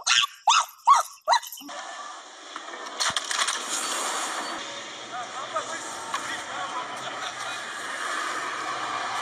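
A dog gives three loud, sharp barks in quick succession near the start, then busy noisy background sound continues for the rest of the stretch without further barking.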